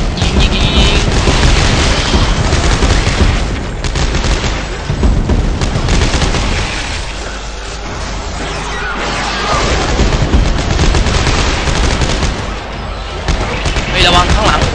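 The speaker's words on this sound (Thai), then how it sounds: "เปลี่ยนพื้นยิงยิงยิงยิง" Loud, sustained Dead Space 3 gunfire rattles in dense volleys with booming low thuds, continuing almost nonstop with brief lulls, mixed under excited talking.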